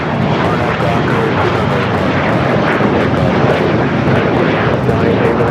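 An airliner takes off from LAX runway 25 right, a loud, continuous jet roar that stays close and full for the whole stretch without easing off.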